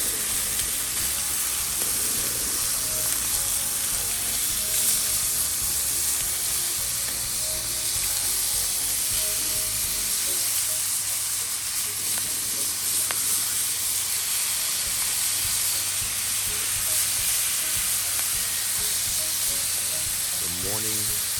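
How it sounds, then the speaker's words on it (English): Ham sizzling in a frying pan while breakfast is cooked, a constant loud hiss and crackle of fat that runs steadily throughout, with faint background voices underneath. "The morning sizzle."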